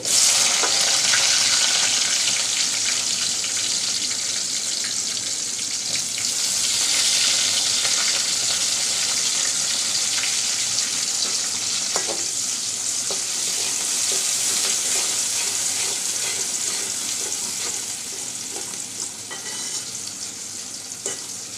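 Chopped onion fries in a pan for a village-style tengra fish curry with taro. A loud, continuous sizzle and crackle fills the whole stretch, with occasional scrapes of stirring close by.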